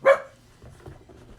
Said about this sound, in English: And there's my dog barking for no reason.